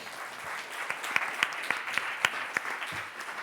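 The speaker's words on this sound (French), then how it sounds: "Vous pouvez applaudir nos panélistes." Applause from a conference audience closing a round-table panel on lobbying, a brief burst of scattered, fairly close hand claps with distinct individual slaps standing out.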